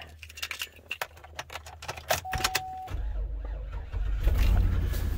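A car engine cranking and catching after a parasitic battery drain is fixed, preceded by jangling keys and clicks, then settling into a steady idle that grows slightly louder at the end.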